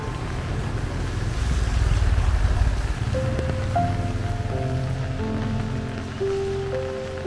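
Rain falls on a sloping street in Da Lat, a steady wash of patter and hiss throughout, with a few tonal beeps or engine whines in the background.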